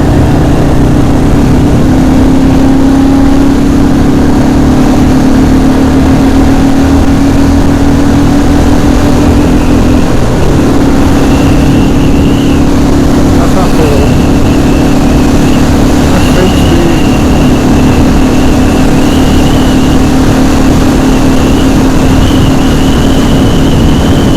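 A Royal Enfield Classic 350 motorcycle engine drones loudly and steadily while riding, with a sustained low throb and a higher tone climbing in later as it pulls harder.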